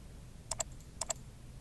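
A computer mouse double-clicked twice while working in Flash animation software: two quick, crisp click pairs about half a second apart, close and quiet against a soft room hush.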